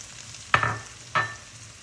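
Tomatoes and then onion are dumped into hot butter, making two separate bursts of sizzling, each a sharp hiss that quickly fades. Between the bursts the pan is quiet, and there is no talking.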